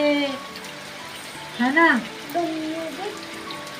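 Rain falls steadily as a soft, even hiss under a few short spoken phrases, with the patter continuing between the voices.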